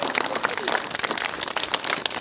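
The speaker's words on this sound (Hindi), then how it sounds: "जोरदार तालियां बजानी चाहिए" An audience bursts into continuous applause, a dense hiss of many hands clapping at once at steady loudness throughout.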